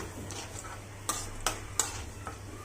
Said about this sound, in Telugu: ఇది వచ్చేసి మినపప్పు కరివేపాకు అండి మంచిగా వేపుకొని పచ్చడి కలిపేద్దాము